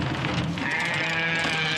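A sheep bleats in a long, nasal, wavering cry that is loud and close, heard alone over a steady background hiss.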